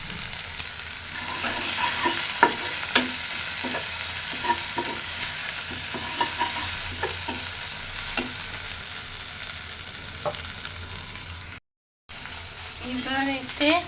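Spices stir-fried with salt and turmeric in a pan give a steady close sizzle with scattered scraping stir strokes, and a brief dropout near the end.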